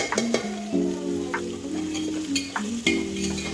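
Ginger-garlic paste sautéing with onions and green chillies in a pan for chicken biryani, a close sizzle with a few stirring scrapes and no talk.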